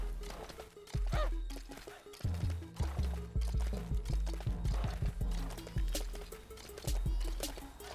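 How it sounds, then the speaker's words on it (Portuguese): Hooves of a white skeleton horse in LEGO Worlds clip-clop in a steady, rhythmic trot, loud and close, with a soft voice under the footfalls. "Olha esse cavalo esqueleto branco."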